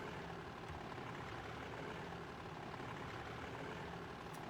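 A Deltic diesel locomotive engine in the Amiga game Train Driver gives a low, steady rumbling drone that holds at an even, fairly quiet level throughout without changes in pitch.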